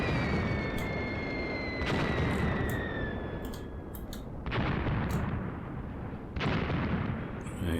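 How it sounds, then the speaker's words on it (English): Mortar shells bursting in the Tank Warfare: Tunisia 1943 game, a run of heavy explosions arriving in clusters at about 2, 4.5 and 6.5 seconds, each a broad rumbling crash over constant battle noise, with whistling incoming rounds early on. "There's our mortars arriving."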